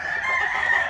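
A Stuart Yellow Leg Hatch gamecock rooster crows in one steady, sustained call, close and loud, with no other sounds around it.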